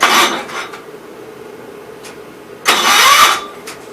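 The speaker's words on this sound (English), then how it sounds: "Hey, it helps if you turn the key on." A 1967 Gravely 430 tractor engine cranks over with the key, giving two loud bursts of starter and engine noise, one at the very start and a stronger one near the end, separated by quieter mechanical clatter.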